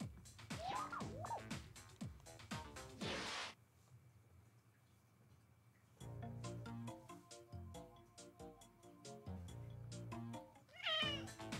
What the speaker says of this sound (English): I heard there's a cute cat over there.